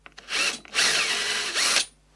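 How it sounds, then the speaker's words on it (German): Power drill boring through wood with a drilling jig while building a shoe rack from salvaged scrap: a few short revs, then two long steady whining bursts, loud and close, no voices. "Fangen an zu bohren."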